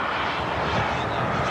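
A model jet airplane at an RC jet event makes a steady, loud roar as it passes by while doing rolls, filling the whole stretch with continuous engine noise.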